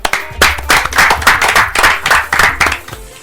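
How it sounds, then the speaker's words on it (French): An audience claps steadily in a rapid, even rhythm, close and loud, to welcome beatmakers on a French music program. The clapping fades out near the end. "je voudrais qu'on les applaudisse"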